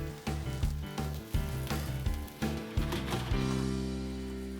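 Green beans and tomatoes roasting in a pan, a faint steady sizzle under a series of sharp, evenly spaced percussive hits that fade into a sustained ringing tone at the end.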